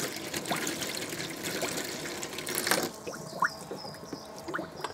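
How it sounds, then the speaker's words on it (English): Cold water runs from the sink tap of a 1995 Abbey 416 Vogue GTS touring caravan, a soft, steady trickle that is faint and close, with a few small knocks partway through. "So that's the hot water. This is the cold water."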